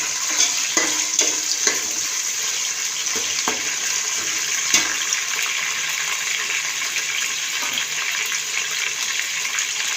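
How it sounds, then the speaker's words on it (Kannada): Onion sautés in a pan for chicken fry, a steady bright sizzle running throughout with scattered soft clicks and scrapes of stirring, close and fairly loud, no voices. "ಈರುಳ್ಳಿ ಬಾಡಿಸ್ತಾ ಇದ್ದಾರೆ"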